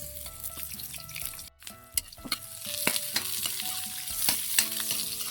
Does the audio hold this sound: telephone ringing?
no